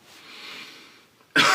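A faint breathy rasp fades, then a single sharp, loud cough bursts in close at the end.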